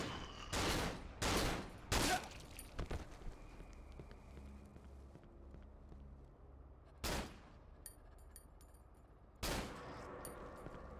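Gunfire in a video game, with a burst of sharp, loud shots followed by two more isolated blasts spaced several seconds apart over a low ambient rumble.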